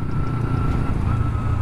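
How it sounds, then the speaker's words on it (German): A Lotus Evora sports car runs nearby with a steady low engine rumble, a continuous moderately loud drone with no speech over it. "Ein Lotus, dieser Evora oder wie der heißt, Bruder."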